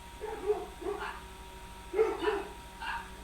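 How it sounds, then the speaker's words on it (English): Dogs bark outdoors among trees, several short barks in separate bursts, fairly distant and moderate in level against a quiet background. "you hear that right there? You hear them dogs?"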